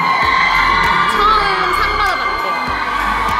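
A crowd at a film festival awards event cheers and whoops, a loud sustained roar with scattered shouts and a few claps.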